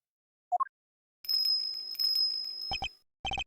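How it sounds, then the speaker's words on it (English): A small bell on a dog's neck tinkles in the Ace Attorney Investigations 2 video game. A short rising blip comes first, then a bright jingling run with a steady high ring, and a few crisp chimes at the end. "Is that a bell around its neck? That explains the sound, I suppose."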